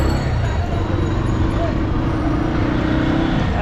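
A motorbike ride at night through city street traffic from Sadarghat toward Kamalapur, with a loud continuous engine drone and road rumble close to the rider and constant wind noise.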